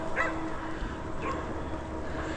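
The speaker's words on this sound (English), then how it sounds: "There come the neighbor's dog down the hill." A neighbor's dog barks a couple of times at a distance, faint yips over steady outdoor background noise at a snowy tent campsite in southern West Virginia.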